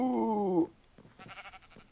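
A sheep in the Minecraft video game lets out one clear, wavering bleat up close, followed by a short pause, then a burst of softer scuffling game sounds.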